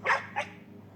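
A pet dog in a survival video game gives two short, close barks, the second softer, followed by quiet background ambience.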